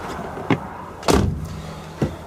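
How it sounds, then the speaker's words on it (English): Cab door of a 2016 Scania P series 18-ton four-wheeler rigid truck swings shut with a solid thud, preceded and followed by lighter clicks and knocks in the quiet interior. "just shut the door"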